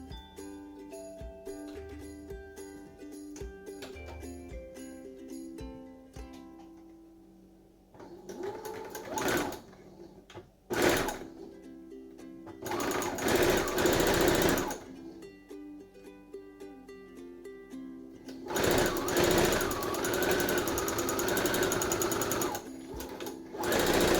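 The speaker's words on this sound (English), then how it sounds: "First, I'm going to stitch the center back." A sewing machine stitches the center back seam of a hat at a 5/8 seam allowance, its rapid mechanical chatter running in several bursts of varying length separated by short pauses.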